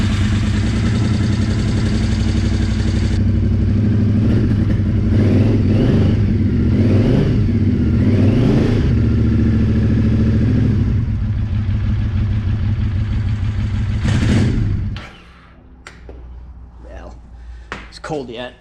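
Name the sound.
2006 Triumph Scrambler 900 motorcycle engine running after carb cleaning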